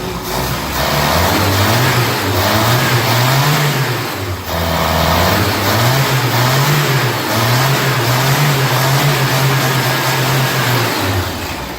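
A Renault 12 Toros engine idles steadily after a carburettor repair, its loud, continuous hum wavering in pitch as the revs rise and fall and gradually settle, with a brief dip midway and no voices.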